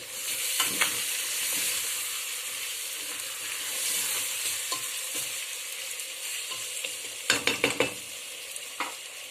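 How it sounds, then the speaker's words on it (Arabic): Chicken searing in a frying pan, a continuous loud sizzle with occasional stirring scrapes and a quick burst of clatter near the end, heard up close. "الدجاج ديالنا كيتشحر"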